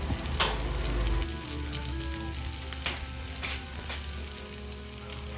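Chicken sisig frying in a pan, a steady dense sizzle with a few stirring scrapes and clinks, loud and close throughout with no talking.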